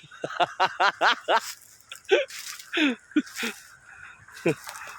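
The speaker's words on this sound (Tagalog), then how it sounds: "yung mga ibon sa puno ng mangga" Kikiyaw birds in a mango tree give a run of loud, nasal honking calls in quick bursts, mixed with a few more scattered squawks, close to the listener.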